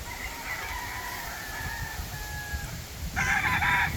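Farmyard chickens with a rooster crowing in a windy spot, a drawn-out crow followed by a second, louder, nearer crow near the end over faint clucking and wind.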